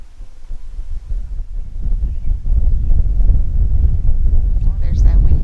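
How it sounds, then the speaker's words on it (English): Wind gusts through a suburban garden, a steady low rumble and buffeting against the microphone that builds and holds strong throughout, with faint rustling near the end. "Oh, there's that wind again."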